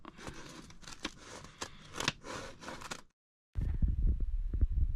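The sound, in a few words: scissors cutting out a paper Christmas tree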